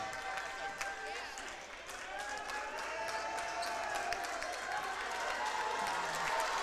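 A basketball crowd at a St. Mary's game stands and cheers, a steady roar of voices with scattered claps and sneaker squeaks, while a commentator talks over it.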